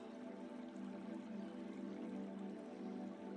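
A waterfall cascades in a steady, soft, continuous wash of falling water, faint and even throughout with no voices.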